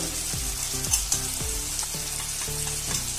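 Tomatoes fried with ginger-garlic paste, turmeric and ground cumin sizzle steadily in oil, with repeated scraping strokes of a spatula stirring the spices through the pan, close and fairly loud, no talking.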